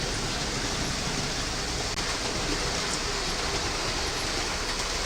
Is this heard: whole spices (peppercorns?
no